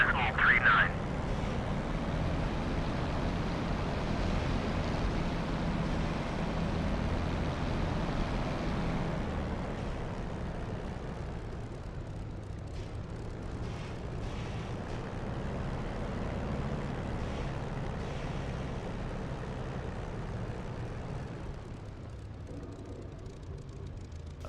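Steady low engine drone of an aircraft idling on the runway before takeoff in a flight simulator game, a continuous broadband rumble that holds throughout with little change.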